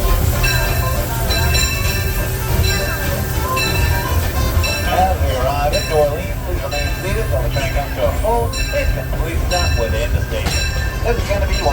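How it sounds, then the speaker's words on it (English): The Disneyland Railroad train, pulled by the C.K. Holliday locomotive, rumbles loudly and steadily, with wheels squealing now and then while a voice talks over it. "please remain seated until the train comes to a complete stop"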